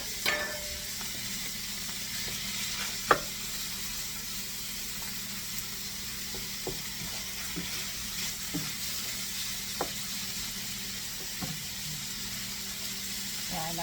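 Chopped vegetables for a cabbage and chopped meat paella sizzle and fry in a hot pan as a steady hiss, with occasional clicks and stirring knocks and voices faintly present.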